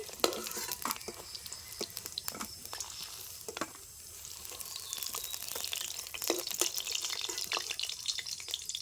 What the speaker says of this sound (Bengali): ফুলের বড়া আমি বেজে নিয়েছি এখন আমি তুলে নেব